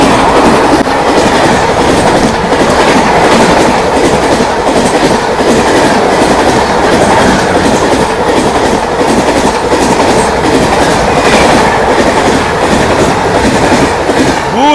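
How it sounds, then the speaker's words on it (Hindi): The Swatantrata Senani superfast express passes close at speed, overtaking another train, with a loud, continuous roar and rhythmic clickety-clack of wheels that stays steady throughout. "गर्दा उड़ाते हुए भाई स्वतंत्रता सेनानी सुपरफास्ट एक्सप्रेस ने हमारी संगम एक्सप्रेस को तोड़ा है"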